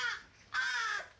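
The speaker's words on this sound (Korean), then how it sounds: "밥그릇을 들고 조류 계류장으로 향하자 까마귀들의 울음소리가 한층 더 높아집니다." Crows caw loudly in a bird enclosure at a wildlife rescue center as a vet carries over a bowl of raw meat, two harsh close calls with a brief pause between, no voices.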